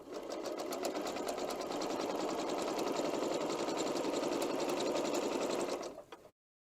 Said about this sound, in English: I'll do it in a chain stitch fashion where I'll stitch all the way down one side